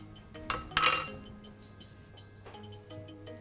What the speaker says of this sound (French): on va utiliser notre spatule pour récupérer un maximum